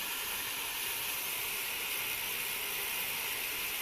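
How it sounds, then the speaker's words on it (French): A Fabiola garment steamer gives off a steady, continuous hiss of steam, even and unbroken throughout with no voices. "Donc, il produit bien la vapeur sans souci."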